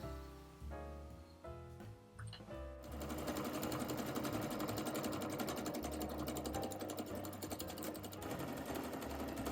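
A sewing machine or overlocker runs a knit dress side seam from sleeve hem to dress hem. It starts with a few short stitching bursts, then settles into a long, fast, steady run with a dense rattling hum.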